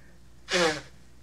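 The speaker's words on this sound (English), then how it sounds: "I only got to sneeze." A single short sneeze burst up close, sharp and breathy, standing out against quiet background.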